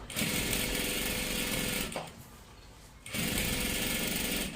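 A sewing machine runs steadily, stitching close along the edge of a salwar top, its loud continuous whir stopping for about a second in the middle before starting again at full pace.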